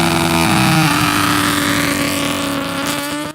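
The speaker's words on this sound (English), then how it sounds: "rising star Ted Collins is competing in the Australian Superbike Championship this weekend" A superbike at an Australian Superbike Championship race screams past at high speed, a loud, steady high-revving engine whine close by that slowly drops in pitch as it moves away.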